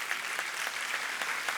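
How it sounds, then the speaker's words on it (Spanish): An audience at a university conference in Spain claps steadily, a dense, even patter of many hands with no voices. "Un aplauso, por favor."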